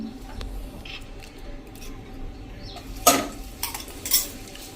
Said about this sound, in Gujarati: તો હવે આપણે આ જે પેસ્ટ બનાવી છે ને એ નાખી દેશું લસણની.